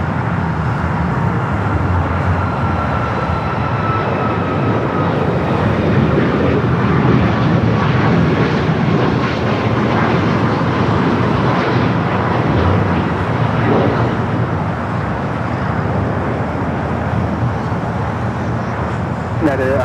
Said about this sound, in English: we got a 737 MAX 8 Air Canada now